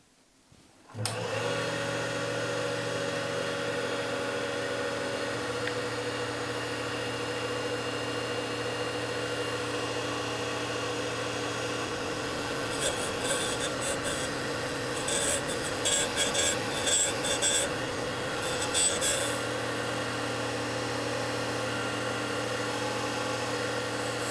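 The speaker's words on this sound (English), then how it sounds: "Now you're ready to grind the first flute." A Deckel S0 drill bit grinder grinds the first flute of a bit, starting with a thump and then running as a steady machine hum. A rougher, louder rasp of contact builds up in the middle, then eases back.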